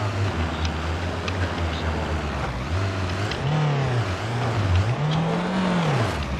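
A Mercedes-Benz W124 engine drones in the driving game BeamNG.drive, holding a steady low hum before revving up and down in rising and falling sweeps, loud and close throughout.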